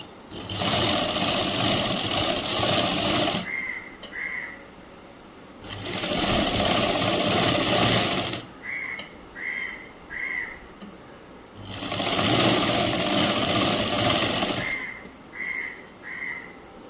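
A sewing machine stitches a sleeve hem on a school uniform top in three long loud bursts, each followed by short quick clicking spurts as the cloth is adjusted.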